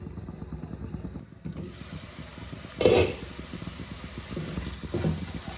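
Spices sizzle and fry in a covered pan while being cooked down for a Bengali doi katla fish curry, a steady soft hiss with a louder burst of sizzling near the middle as the pan is stirred.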